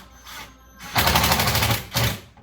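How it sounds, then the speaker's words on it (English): A simple hand-held driver sends a screw into the cabinet of a sliding trashcan drawer, fitted with a compression washer. It gives close, loud bursts of rapid buzzing, a long run of about a second and then a shorter second burst. "Just using a simple driver here, and I'm going to go ahead and pop the screw in here from this angle."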